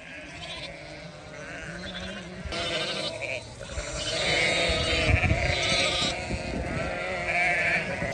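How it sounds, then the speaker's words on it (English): Sheep bleat repeatedly at close range on a farm, several overlapping calls rising and falling over a noisy background with some rustling and movement. "I've just let all the sheep through"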